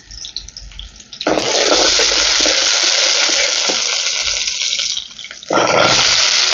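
Ginger sautéing in a pan for potato masala, a loud, dense frying hiss that surges up suddenly, drops briefly near the end and then returns, with no talk over it.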